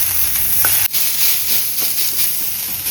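Onions frying in hot oil until brown give off a steady, dense sizzle and hiss that holds at an even level throughout, with one brief dip partway through and no voices.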